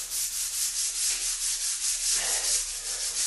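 Simple Green cleaner is rubbed by hand into tile grout lines with a steady back-and-forth scrubbing, close and fairly loud, at a regular rhythm of about three strokes per second, with no talking.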